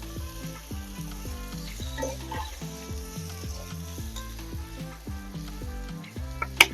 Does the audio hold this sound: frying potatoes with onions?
yes